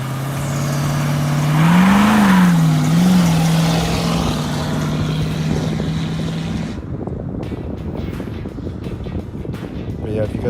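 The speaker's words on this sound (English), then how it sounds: "I always had a high idle too. As you can see there, I was messing with the idle." A 1971 Dodge Dart engine holds a fast, steady high idle with a droning hum that wavers slightly early on, then gives way to rougher, noisier rumbling.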